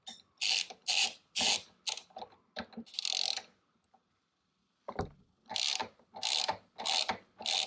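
A ratchet wrench snugs the bolt on a GPR V5 steering stabilizer fitted to a Honda motorcycle: close, loud bursts of rapid clicking, a quiet gap midway, then several more steady ratchet strokes.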